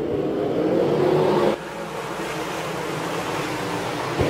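Sprint cars roar off at the start of a dirt-track feature, a dense, loud wash of engine noise that swells and then drops to a steadier, more distant drone.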